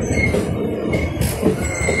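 Steady rumble of the Uttar Banga Express idling or creeping along at New Cooch Behar station, with a faint high squeal of wheels and clanking, no voices.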